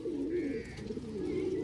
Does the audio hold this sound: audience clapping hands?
no